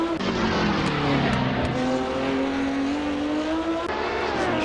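A 1970 Le Mans-winning Porsche 917K short-tail race car, run by Porsche Salzburg, roars loudly and close at Goodwood Festival of Speed, its engine note holding steady with a gradual pitch rise as it drives past.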